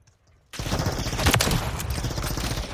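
Dense, sustained automatic gunfire in the video game Call of Duty Modern Warfare III bursts in suddenly after a quiet start and roars loud and continuous to the end.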